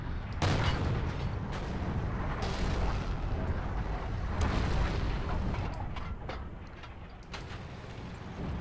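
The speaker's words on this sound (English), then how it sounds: "I think my buddy's shooting smoke" Smoke rounds fired in the World War II shooter Forgotten Hope 2, a series of deep booming launches and explosions rolling over a constant rumble of battlefield noise, some near and some more distant.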